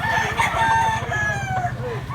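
A Kanawayon gamecock crows loudly and close, a long drawn-out call that rises and falls, with other roosters and a busy cockfighting-farm background underneath.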